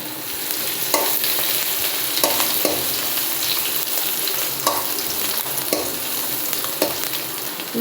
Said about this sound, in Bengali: কড়াইতে 5 ফোড়ন আর শুকনো লঙ্কা ফোড়ন দিয়ে দিয়েছি। এবার দিয়ে দেবো আদা ছাঁচা।